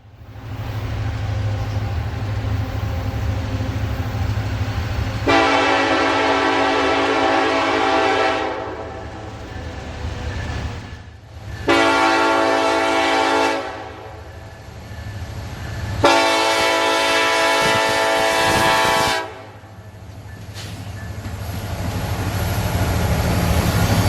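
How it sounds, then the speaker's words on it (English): A freight train led by two Norfolk Southern SD70ACe diesel locomotives rumbles past steadily, engines droning low, while several long, loud horn blasts sound in sequence over the passing cars. "it was two Norfolk Southern SD-70 Aces leading a quite interesting train"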